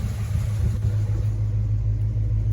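A Buick-powered C20 Suburban with a freshly adjusted Quadrajet carburetor idles steadily nearby, a low, even rumble with no revving.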